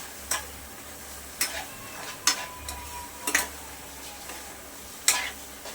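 A spoon scrapes through grated coconut and sugar in a pan on medium gas, giving sharp clinks and scrapes about once a second. A faint low hum and gentle sizzle sit underneath.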